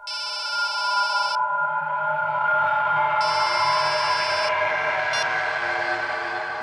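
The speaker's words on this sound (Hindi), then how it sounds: "मैडम आपका फोन बज रहा है।" A phone rings in short bursts of bright electronic trilling, two longer rings and a brief third, over a steady low rumble, in a TV drama scene.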